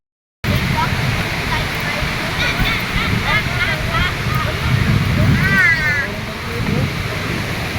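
Waterfall at Wawa Dam in Montalban, Rizal, a steady, full rush of falling water close by, with voices and children's chatter over it throughout.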